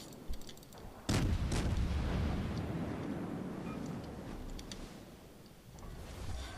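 Naval artillery from a ship's main guns in World of Warships, with one sharp, heavy boom followed by a long rumbling roar that slowly fades, heard close with no talking.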